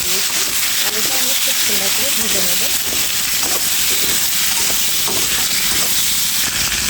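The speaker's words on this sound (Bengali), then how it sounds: "তেল আলুটা দিয়ে দিলাম আলুটা একটু ভেজে নেব" Potatoes frying in hot oil in a pan, giving a loud, continuous hissing sizzle with someone talking over it at the start.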